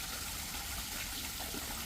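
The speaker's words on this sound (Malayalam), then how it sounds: "മലവെള്ളമാണ് കേട്ടോ" A clear mountain stream on a hillside in China flows with a soft, continuous rush and gurgle, steady and fairly faint, with no talk over it.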